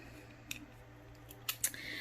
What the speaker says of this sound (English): these little Cricut scissors, believe it or not, they're pretty sharp